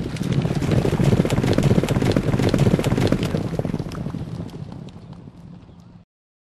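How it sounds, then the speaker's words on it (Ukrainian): Racehorses galloping in a tight pack into the final turn of a race on a track, a rapid rumbling drum of hooves under wind noise that swells and then fades away as the field passes. "Коні кучно входять в останній поворот."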